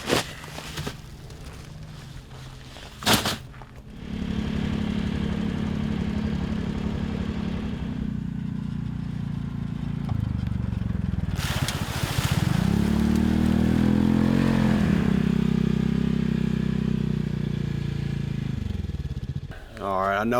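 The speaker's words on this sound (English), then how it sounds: "An old Kubota 4-wheel drive tractor with a bucket, 6-foot disc" Old Kubota four-wheel-drive tractor fitted with a bucket and six-foot disc, its engine running steadily close by with a low rumble that swells and shifts in load, broken by brief clattering knocks near the start and middle.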